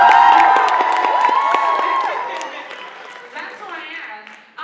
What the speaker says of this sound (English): can I get some snaps and claps?